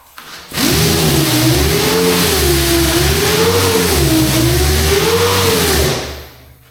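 An 8-inch sander with 80-grit paper works a big flat panel on a Cadillac-finned custom hot rod's body, a loud steady whine that starts abruptly, holds for about five seconds with slight pitch wavering, then cuts off.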